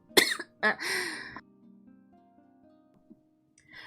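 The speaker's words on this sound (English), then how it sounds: "Oh god, I cough a lot." Two sharp coughs close together followed by a longer throat clearing, close up and fairly loud, then a quiet, nearly silent stretch with faint low background tones.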